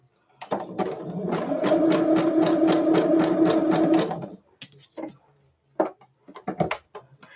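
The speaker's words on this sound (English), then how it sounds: "So I'm just going around them with the zigzag." Sewing machine running a zigzag stitch around small fabric snippets, a steady rapid needle chatter for about four seconds, followed by a few short bursts of stitching and soft handling clicks.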